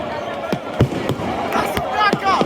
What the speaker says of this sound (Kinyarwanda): dore ngiyo roketi rocanye dore ngiyo roketi